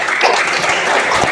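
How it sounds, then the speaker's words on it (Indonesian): Applause from a classroom audience fills the brief moment, an even, dense patter of clapping with no pause. "Sekali lagi tepuk tangan untuk Fauzi dan Azam."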